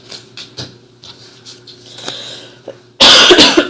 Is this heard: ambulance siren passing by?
no